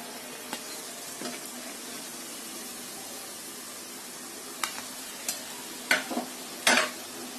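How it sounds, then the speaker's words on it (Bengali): Snacks frying in hot oil, a quiet steady bubbling hiss with a few sharp scraping clicks from a utensil near the end, no talk. "এরকম করে ভাজতে হবে"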